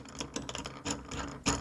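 A clamp being tightened down on the fence of a DeWalt DWS779 dual bevel compound miter saw makes a quick run of soft mechanical clicks and ratcheting ticks, close by and quiet, with no talk.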